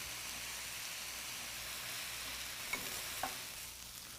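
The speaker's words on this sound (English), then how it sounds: "we add in our shrimp and we'll stir fry that until it's cooked through" Shrimp fried rice with peas, carrots, garlic and soy sauce stir fried in a hot pan: a steady, close sizzle throughout, with two sharp utensil clinks near the end and no talking.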